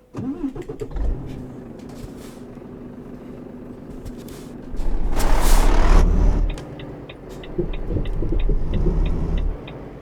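Volvo truck in Euro Truck Simulator 2 with a steady engine drone, a loud hissing air-brake release in the middle, and a regular ticking indicator afterward, no talk.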